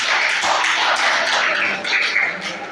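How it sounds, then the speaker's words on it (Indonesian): A church congregation applauding together, a loud, close burst of many hands clapping steadily for a few seconds before easing slightly. "Tepuk tangan untuk kita semua."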